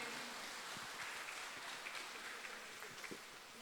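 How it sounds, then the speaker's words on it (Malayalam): An audience at an Onam festival event claps to welcome a guest artist to the stage, a soft, steady patter of applause heard from a distance that fades slightly toward the end. "നല്ലൊരു കൈയടി കൊടുത്ത് നമുക്ക് അവരെ വേദിയിലേക്ക് ക്ഷണിക്കാം"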